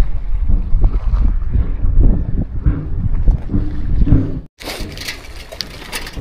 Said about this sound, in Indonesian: Ini loh, pintu air ini yang dari tadi bunyi gelundang.